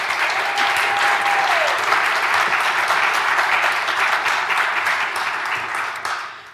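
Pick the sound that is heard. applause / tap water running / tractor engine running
applause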